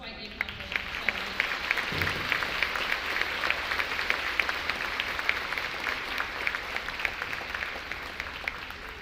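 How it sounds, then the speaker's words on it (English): A school academic awards ceremony audience claps for student award recipients, steady dense applause filling the hall for several seconds, loud and sustained. "I'd like to give them a big round of applause"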